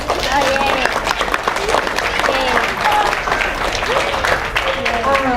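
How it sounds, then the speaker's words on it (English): An audience at a school choir meeting giving parents a round of applause, sustained clapping mixed with cheering voices and crowd babble, fairly loud and continuous throughout. "Please give them a round of applause"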